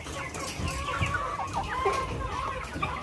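A dense flock of Shamo chickens clucks and chatters continuously, with overlapping soft calls close by.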